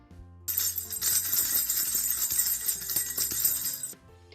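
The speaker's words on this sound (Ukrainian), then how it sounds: "Так, це звук брязкальця" A baby rattle is shaken briskly for a few seconds, a dense bright clatter of small beads, close and alone.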